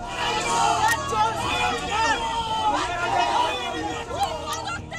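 Agitated crowd in West Bengal presses close behind Abhishek Banerjee, a dense, continuous babble of many raised voices chanting and yelling, loud and near throughout with no single voice standing out.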